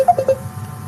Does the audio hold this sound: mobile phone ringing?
yes